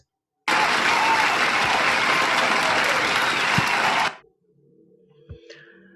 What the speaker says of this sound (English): Applause is a sound that sounds like this